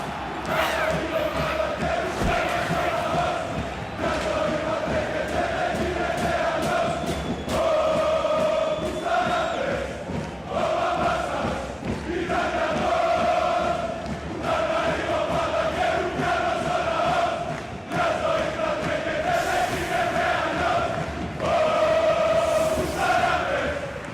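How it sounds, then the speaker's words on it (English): A crowd roars and cheers wildly, loud and sustained, at the final of a tabletop game tournament, with shouting voices and a steady, busy din that swells and dips for the whole stretch. "you can hear it. The crowd's absolutely going wild"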